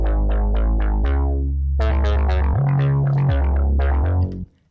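Vital synth sub bass using the Dispersed Grid preset, layered with a legato, gliding synth line: a loud, steady, deep low end under rising and sliding tones, cutting off abruptly at the end.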